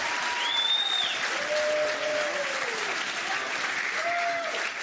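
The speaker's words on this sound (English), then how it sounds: "Give Elena a round of applause" An audience at a Michigan political town hall gives a steady round of applause, dense clapping held at an even level, with faint whistle-like tones gliding over the top.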